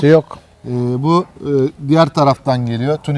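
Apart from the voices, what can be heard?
No distinct noise like a dog, phone or traffic.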